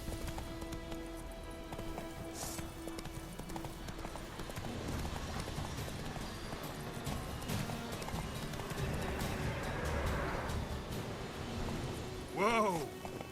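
Roach the horse gallops in The Witcher 3 video game, with steady clip-clop hoofbeats under game sounds and a short whinny near the end.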